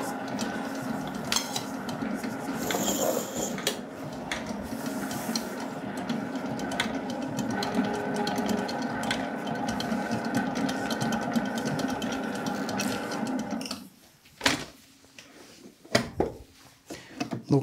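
A stand mixer kneading crumble dough, a steady close mechanical whir with rhythmic rattling for about fourteen seconds, then stopping, followed by a few sharp knocks and clatters.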